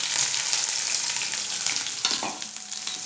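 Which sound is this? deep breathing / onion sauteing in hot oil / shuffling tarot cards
onion sauteing in hot oil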